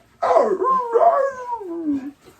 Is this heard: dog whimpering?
yes